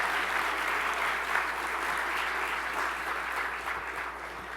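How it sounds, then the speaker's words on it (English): Sustained audience applause fills a college charter award dinner, a dense even wash of clapping holding steady at moderate loudness and easing off slightly toward the end. "Give her a round of applause and each one of these kids here today."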